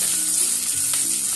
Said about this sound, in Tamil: எண்ணெய் ஊற்றிருக்கேன். கடுகு சேர்த்து கருவேப்பிலை சேர்த்து தாளிச்சு கொட்டிடலாம்.